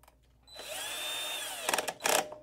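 A power driver whirs steadily for about a second while undoing a screw on the ground-wire board of a Juki DDL9000C sewing machine, followed by a few short, louder mechanical bursts close by.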